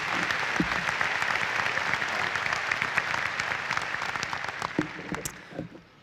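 Audience applause welcomes Regent Eve Hall to the stage at the UWM 2016 spring commencement ceremony. A large crowd claps in a dense, steady roar that tapers off near the end, with no voices over it.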